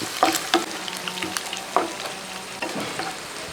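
Garlic and green chilies sizzle in hot oil in a pan, with a few distinct spatula scrapes and taps as they are stirred. The frying is moderately loud and there is no speech.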